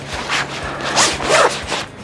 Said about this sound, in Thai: ซึ่งก็จะเป็นซิปตัวที่2ตัวนี้ครับเปิดออกม